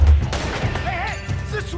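Gunfire in the Western video game Red Dead Redemption 2 during a big bank robbery mission: a loud burst of shots and thumps at the start, followed by sparser reports mixed with game sounds and voices.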